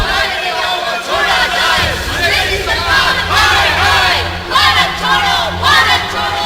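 Around 50,000 protesters in Amritsar, gathered at the time of the Jallianwala Bagh massacre, shouting demands for the release of arrested leaders; a dense, loud crowd roar of many voices yelling together in surging waves.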